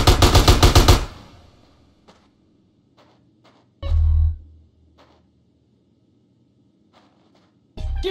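Gunfire in GTA San Andreas Definitive Edition: a loud rapid automatic burst opens, followed by scattered faint single shots and two more heavy blasts, with quiet gaps between.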